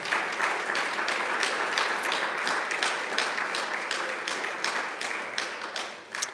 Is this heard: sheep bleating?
no